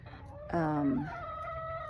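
A chicken lets out a loud, drawn-out squawking call close by, with softer clucking and a faint murmur of background noise around it.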